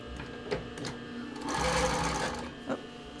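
A sewing machine stitches a sports bra neckline in quiet, short bursts of close mechanical whirring and clicking, with a longer steady run in the middle.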